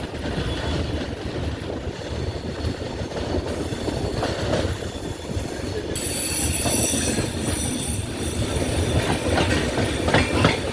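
The Island Express rolls around a curve into Kollam Junction station, with continuous rumbling wheels, rhythmic clickety-clack and wheel squeal growing louder partway through, heard from on board with no talk.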